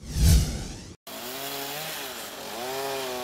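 A chainsaw runs steadily outdoors as city workers cut dead, dry trees during sanitary pruning along central streets, the engine note wavering as it bites, after a brief loud thump and a short gap.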